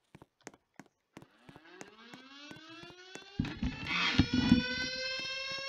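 Tornado siren in Roblox rising in a long sweeping wail after several sharp clicks, growing louder as a broadband rumble joins in partway through.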